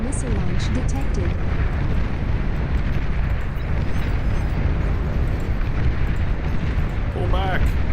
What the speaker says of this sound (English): Nuclear missile launch detected